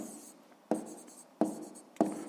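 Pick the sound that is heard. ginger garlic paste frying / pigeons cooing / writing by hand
writing by hand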